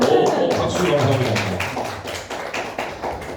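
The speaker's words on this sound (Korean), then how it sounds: "박수 감사합니다." Audience applause at an independent film festival screening Q&A in Mokpo, a dense patter of clapping under a speaking voice that gradually thins out.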